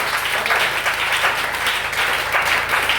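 A church congregation applauds, with dense steady clapping that swells and eases in waves and carries on throughout.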